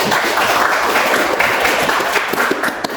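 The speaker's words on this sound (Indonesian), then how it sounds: "Kita tepuk tangan dulu." A classroom group claps together in steady, dense applause that holds at the same level throughout, close and loud, with no talk over it.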